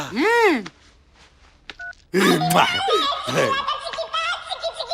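A brief run of electronic phone tones sounds among laughter and lively chatter, with warbling tones at the start.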